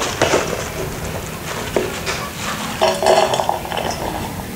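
Metal pots and utensils clink and scrape in a home kitchen while fried rice is cooked, with scattered sharp knocks and a busier cluster of clatter near the end.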